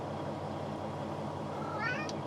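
A pet cat named Kitty gives a brief, rising meow near the end, close by and fairly clear over a quiet indoor room hum.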